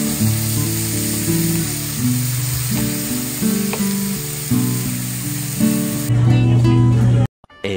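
Bitter gourd (karela) frying in hot oil in a home kitchen, a continuous crackling sizzle that stays steady throughout, with a low hum and light background music, ending in a brief cutoff.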